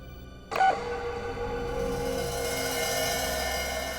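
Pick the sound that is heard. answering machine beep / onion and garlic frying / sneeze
answering machine beep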